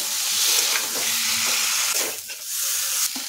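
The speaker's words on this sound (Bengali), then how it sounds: "এখন আলুটা কষিয়ে নিতে হবে।" Boiled potato being stir-fried in hot oil for a Bengali mochar kofta dish, a steady loud sizzle with scraping stir strokes throughout and no voices.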